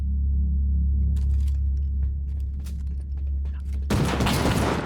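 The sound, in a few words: gunfire in the video game Rust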